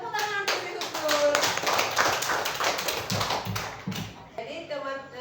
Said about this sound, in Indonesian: Tepuk tangan untuk si Husnul.